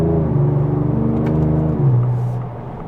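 A 2024 Ford Ranger Raptor engine revs through quick paddle-shifted gear changes, a close, steady droning hum with a brief dip and a rise in pitch near the end, no voices.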